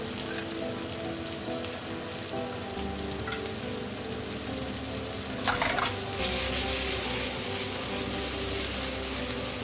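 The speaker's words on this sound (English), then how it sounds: "Add canned tuna, mix." Canned tuna is stirred into a salad, with a steady close scraping and wet tumbling that runs without a break and grows busier toward the end, no voices.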